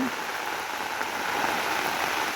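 A downpour drums steadily on a rooftop, a thick, constant wash of rain with fine pattering detail, near and continuous, with nobody speaking.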